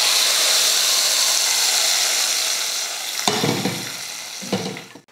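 Hot oil tempering with asafoetida sizzles loudly and steadily as it is poured into a fenugreek greens and lentil dal, with a couple of sharper bursts and clatters near the end before it cuts off.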